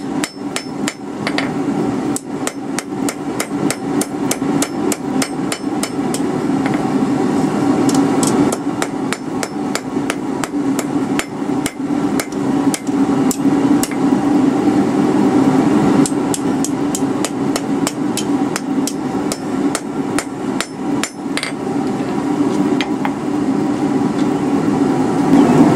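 A hammer strikes hot steel on an anvil while J hooks are forged, ringing out in quick, sharp, evenly spaced blows close by, with brief pauses between bursts of striking.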